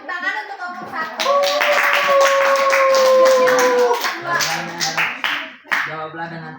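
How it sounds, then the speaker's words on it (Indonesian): A classroom of high school students applauds group 1, with a dense burst of clapping that swells, holds and then thins into scattered claps, while voices and children's chatter mix in around it. "boleh tepuk tangan untuk kelompok 1"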